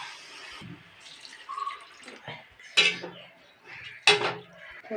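Water poured into a pot of rice being cooked for egg biryani with cinnamon and cumin, a close splashing pour with clinks of metal cookware, heard alone without speech.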